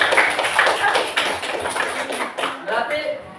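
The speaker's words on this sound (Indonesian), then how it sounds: "Tepuk tangan untuk kita semua." Schoolchildren clap their hands together in a sixth-grade classroom, a loud, close run of uneven claps and taps with a few shuffling noises.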